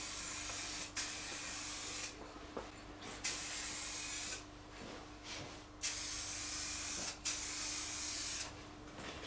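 Spray paint hisses onto the pitted chrome rear rack of a Suzuki Boulevard C50 motorcycle in a final close coat. There are several steady bursts of a few seconds each, separated by short pauses, over a faint background hum.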